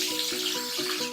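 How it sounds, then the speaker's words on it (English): Tap water runs steadily from a kitchen faucet while an apple is washed under it, a continuous hissing splash with no talk. "Make sure you wash your apple first."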